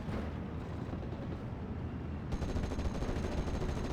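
Dense crackling gunfire from rifles and submachine guns fills a WWII strategy video game battle, a continuous muffled fusillade that grows slightly sharper near the end.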